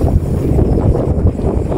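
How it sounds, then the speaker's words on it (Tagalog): Strong wind blows outdoors near Naga City, a continuous, loud, low buffeting roar that rumbles against the microphone throughout. "Yan, ang hangin dito, grabe."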